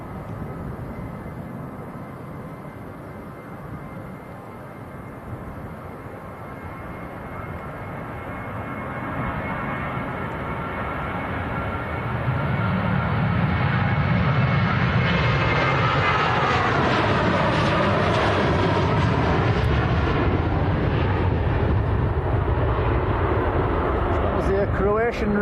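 Jet2 Boeing 737-800 jet airliner at Manchester Airport, its engine roar building from a distant whine to a loud, broad rumble that holds steady as the aircraft passes near, with a shifting whistle riding on top.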